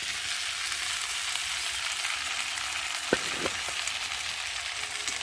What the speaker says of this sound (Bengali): আমি ভেজে রাখা ফুলকপিটাকে দিয়ে আর একটু মশলার সাথে কষিয়ে দেবো।